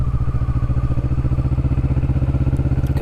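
A Kawasaki Vulcan S motorcycle engine thuds close by in a steady, even rhythm of lumpy low-speed pulses, loud and alone without speech.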